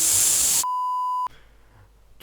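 A single steady censor bleep tone, about half a second long, cuts sharply across loud noise and then stops, leaving quieter background hiss; no speech is heard.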